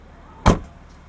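The trunk of a 2017 BMW X5 xDrive35d shuts with one short, solid thump close by, followed by quiet.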